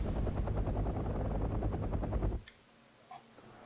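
Rotor chop of AH Cobra attack helicopters in a real-time wartime strategy game, a steady loud thudding beat that cuts off abruptly, leaving near silence with a couple of faint ticks.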